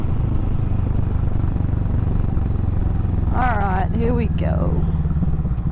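A Kawasaki Vulcan 650 cruiser motorcycle being ridden, its engine rumbling steadily close up with wind noise while it shifts down through the gears, and someone talks briefly over it partway through.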